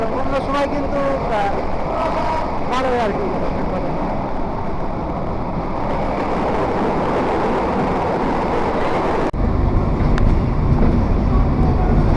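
An old passenger train from Kushtia Court to Dhaka Kamalapur rumbles loudly and continuously from inside the carriage, with brief tonal wails early on and a sudden jolt in the noise near the end.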